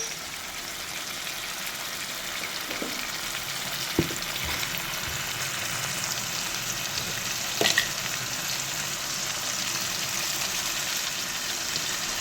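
Tomatoes with salt cook in a pan for sev tomato curry, a soft, even frying sizzle throughout with a few light knocks of a spoon against the pan.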